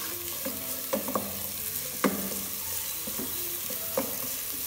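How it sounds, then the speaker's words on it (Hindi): Chopped carrots and other vegetables fry for fish soup in a pan with a steady hiss, broken by a few scattered scrapes and knocks of a stirring utensil, close up, no voices. "गाजर जो हमने चॉप करके रखी हुई है ये ऐड करते हैं। इनको भी हल्का सा फ्राई करना है"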